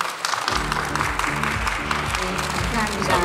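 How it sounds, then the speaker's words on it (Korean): Applause from the audience at a Volvo V60 Cross Country launch event in Korea, a dense patter of clapping that swells after a half-second start, with a low steady musical tone running beneath it. "좋은 말씀해 주신 정혜인 씨에게 큰 박수 부탁드립니다."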